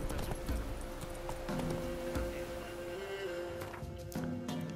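Horse hooves from riding in The Witcher 3 video game, a steady galloping clip-clop under game music and ambience, continuous for the few seconds.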